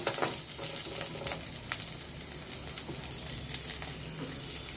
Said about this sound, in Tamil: கருவேப்பில வெங்காயம் நல்லா வதங்கி வரட்டும்